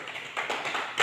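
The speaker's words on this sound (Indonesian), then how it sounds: "Tepuk tangan untuk Novia." A classroom full of students breaks into brief, dense applause, many hands clapping together in a quick, even patter that rises slightly at the end.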